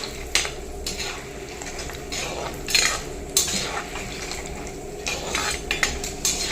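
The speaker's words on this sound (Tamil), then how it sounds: "அந்த 10 காஞ்ச மிளகாய் போட்டு நல்லா பொரிச்சு எடுத்துக்கலாம்." Ten dried red chillies frying with chana dal in a pan for a chutney, with steady sizzling under repeated scraping and clinks of a spoon against the pan, close and fairly loud.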